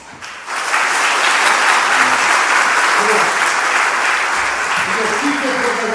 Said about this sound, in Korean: 인사할 때 뜨겁게 한 박수 해주겠습니다.